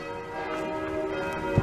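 Church bells in Montreal's Rosemont district toll faintly in the distance, their sustained ringing tones hanging in the air, with a soft thump near the end.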